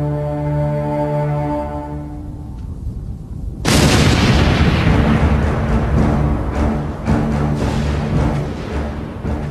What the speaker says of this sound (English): But the Germans had planned for the forts and brought out a secret weapon. Big Bertha